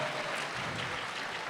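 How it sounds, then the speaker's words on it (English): A convention panel audience applauding at a fan event, a dense, even wash of clapping from a large crowd, distant and fairly soft, continuous for the whole moment. "Give yourselves a round of applause for keeping this franchise strong."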